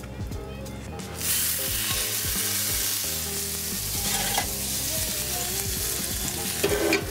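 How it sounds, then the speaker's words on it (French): A lamb meatball fries in a pan of butter and olive oil, giving a steady, close sizzle throughout, with scattered scrapes and clinks of a utensil against the pan. "on va colorer notre boulette dans une poêle avec un mélange de beurre"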